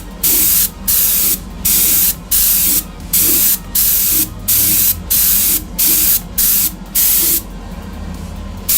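An airbrush base-coats Greek style vases in about a dozen short, evenly spaced hissing spray bursts, each roughly half a second long, close and fairly loud, with a low background hum between them.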